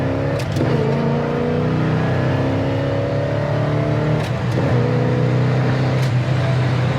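A 1971 Pontiac GTO with a four-speed Muncie M22 gearbox pulls hard, engine note climbing through the gears with distinct shift breaks, loud and close from inside the car.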